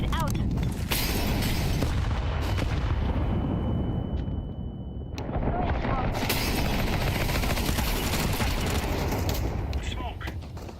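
Explosive booms from a grenade in the video game CS2, set in a loud, dense stretch of gunfire and game effects, with a short quieter gap in the middle before the din resumes.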